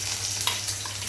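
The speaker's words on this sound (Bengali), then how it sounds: "ভেজে রাখা আলু, কপি সবই দিয়ে দিলাম, কারণ আর একটু ভাজা হয়ে যাবে" Pre-fried potatoes and cauliflower sizzle in a pan, a steady, close, crackling hiss over a brief moment with no voices.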